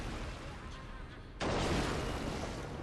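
Hand cannon gunfire from an enemy in Bloodborne: a sudden loud broadband blast about halfway through that jumps over a constant noisy game background and holds as a roaring wash to the end.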